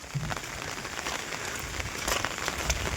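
Heavy rain pours down in a dense, steady hiss with scattered louder drops striking a surface nearby, no voices, in the Konkan region.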